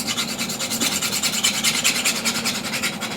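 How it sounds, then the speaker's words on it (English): A woodturning gouge is honed on a 600-grit diamond card, producing a continuous close, bright rasping rub with quick back-and-forth strokes and no talking. "So I'll just hone the left portion of the gouge here using this 600"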